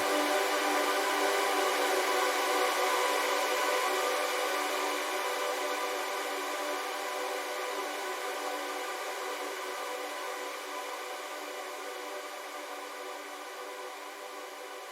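A long, wide wash of reverb from a Valhalla Supermassive plugin lingers and slowly fades, a dense hiss-like tail with no other sound on top.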